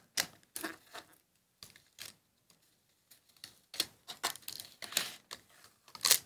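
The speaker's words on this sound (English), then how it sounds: "I'm going to just slowly start to peel this film" Plastic film peeled slowly off a toothpaste box gives faint, close crinkling and ticking crackles in irregular clusters, alone without talk.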